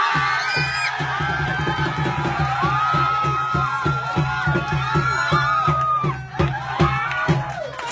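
A large crowd cheers, whoops and shouts to welcome new Faculty of Political Science students of Thammasat University at an admission results gathering, a dense, steady roar of voices lasting throughout.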